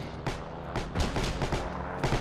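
Bursts of DP-28 machine gun fire in the online war game Heroes and Generals, a run of sharp, fairly close shots in quick uneven clusters.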